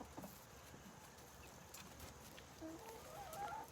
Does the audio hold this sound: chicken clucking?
yes